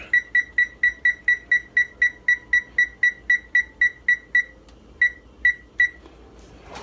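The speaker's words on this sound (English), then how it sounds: "I want to turn the oven on to timer" An oven timer beeps in a steady rapid series of short, bright electronic tones, about a dozen evenly spaced, then a few more after a brief pause, close and clear with no talking.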